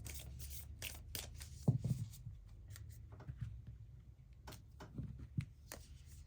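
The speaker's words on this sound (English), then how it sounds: "So let's put it back in the deck and shuffle this deck up." Oracle cards riffled and shuffled by hand in a quiet room, a run of soft papery flutters and taps near and close, with a few brief louder rustles and pauses between bursts.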